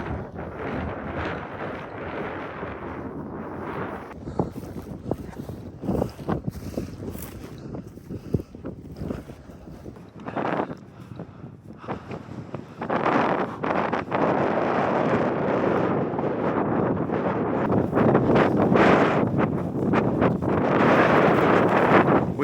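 Strong, gusting wind buffets the microphone out in the snowy Scottish hills on a freezing day, roaring in waves that build louder toward the end with no one speaking.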